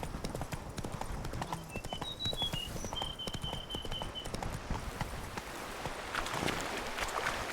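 Hooves of the horse Roach pound in a steady galloping clip-clop in The Witcher 3, loud and continuous, joined by bright chiming game tones partway through, with no one talking.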